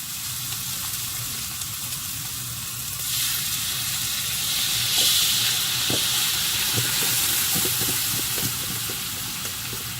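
Coconut milk pours into a hot pan of caramelizing beef rendang, a steady loud sizzle and hiss that swells midway as the liquid hits the pan, with light stirring clicks toward the end.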